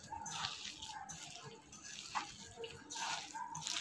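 Water trickles and splashes in short pours into bottle gourd chila batter, nearby and moderately quiet, with a few wet bursts spread across the clip.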